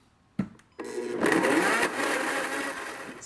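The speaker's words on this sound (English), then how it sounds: "So that's the magic of the Blendtec blender." A Blendtec blender purees a sauce of soaked sun-dried tomatoes, starting with a thump and then roaring steadily and loudly for several seconds.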